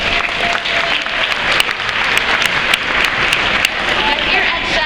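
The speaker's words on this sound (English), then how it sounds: "Can we get a round of applause for these folks?" An audience applauds warmly, dense clapping from many hands that holds steady for several seconds, with a few louder claps standing out near the front.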